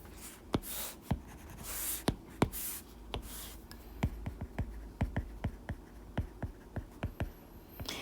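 A red pen writes notes for an English exam lesson, producing a quick series of close, crisp taps and short scratches, clustered in bursts of strokes with no talk over them.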